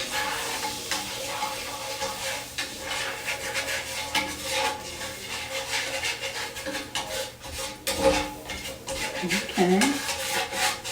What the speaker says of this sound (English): so now we're going to add the flour. We're going to mix it up so it's smooth.